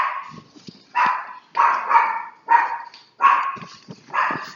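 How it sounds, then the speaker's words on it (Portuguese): A small female dog barks close by in a run of six sharp, fairly evenly spaced barks with short whimpery gaps between them, alone without talk. "desculpa aí, minha cachorrinha, ela tá latindo e vai ficar no vídeo"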